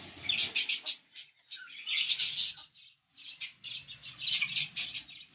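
Ringneck parakeets in a small breeding setup give repeated shrill chirps and squawks in bursts, fairly close, with short pauses between calls and no talking.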